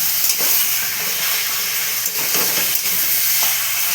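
Chicken with spices and capsicum sautéing in oil in a pan gives a steady, close sizzling hiss with faint scrapes of stirring throughout.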